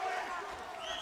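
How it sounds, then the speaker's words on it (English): A kickboxing crowd at a Wako Pro world title bout in the Colosseum Tournament roars in a steady, dense wash of voices for about a second, fairly loud and continuous. "Listen to this crowd."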